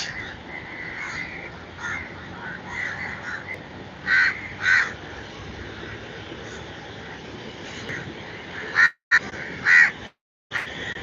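A bird calls repeatedly beside a lake, harsh crow-like caws rising in short bursts over a steady outdoor hiss, with brief louder calls near the middle and end.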